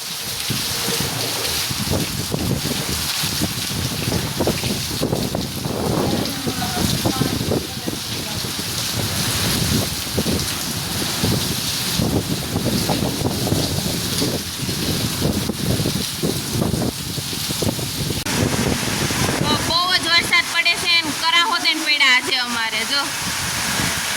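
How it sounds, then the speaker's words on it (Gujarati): Heavy rain pouring down hard and steadily during a pre-monsoon storm, a loud, dense, continuous roar with some wind buffeting on the microphone, and someone talking over it. "જો ધબધબાટી બોલાવી છે વરસાદ, ઉપડાની ધારે વરસાદ પડે છે"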